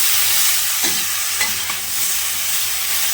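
Vegetables for Bengali shukto sizzle steadily in hot oil in a pan, a loud, continuous hiss close up, broken by a few light scrapes of stirring.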